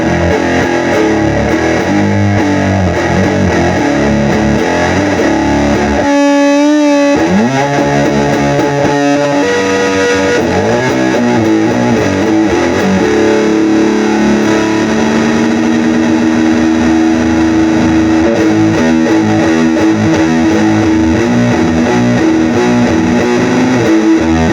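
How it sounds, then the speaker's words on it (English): Loud, continuous fuzz-pedal-distorted electric guitar with a ragged torn-speaker buzz, playing sustained notes and riffs with a brief gap near the start. "So let's get back to the classic torn speaker tones for a second."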